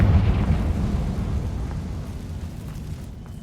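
A Confringo fire spell explodes in Hogwarts Legacy, giving a deep, rumbling boom that starts strong and slowly fades away over a few seconds.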